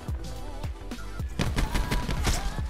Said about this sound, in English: I heard somebody shooting over here